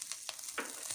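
Green chilies hit hot oil already holding ginger-garlic paste and cumin, giving a short, soft sizzle with a couple of quick crackles, close but quiet.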